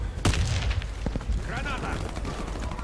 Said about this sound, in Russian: Граната!